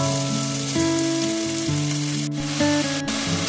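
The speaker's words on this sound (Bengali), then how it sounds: "এদিকে কড়াই বসে আমি সবজিগুলো একটু ভাজা ভাজা করে নিলাম" Vegetables sizzle as they fry in a wok for chow mein, a steady hissing crackle partly under background music.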